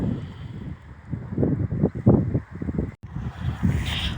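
Gusty wind buffets and rumbles against the microphone, rising and falling in uneven bursts, with a brief dropout near the end.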